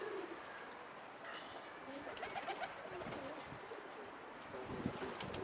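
Pigeons coo softly in a coop, their low, repeated calls faint against a steady background hiss, with no talking.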